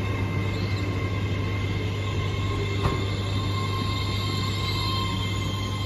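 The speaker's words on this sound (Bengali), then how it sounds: "ওই তো কত লম্বা ট্রেন বুঝলেন" A long British train passes at Peterborough with a loud, continuous rolling rumble and a steady droning tone, heard up close without any talk.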